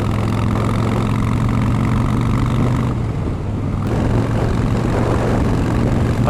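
A Harley-Davidson Fat Boy motorcycle engine runs loud and close in a steady, throbbing drone, with a brief dip in the middle before it settles back to a constant rumble. No voices are heard.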